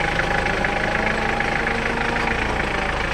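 Diesel 4x4 cabin pickup with manual gearbox idling, a loud, even, rumbling clatter held close and steady with no other sounds.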